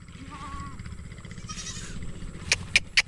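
Goats bleat three times in short bursts near the end, moderately close, at a farm cafe with a constant low rumble and some background noise underneath.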